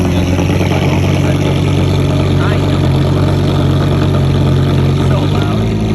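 A Lamborghini engine idles loudly and continuously with a deep, steady rumble, while people talk over it.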